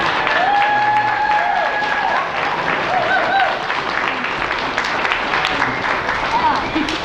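A middle school assembly crowd gives the 7th grade a loud round of applause, dense clapping close and sustained throughout with some faint tones mixed in.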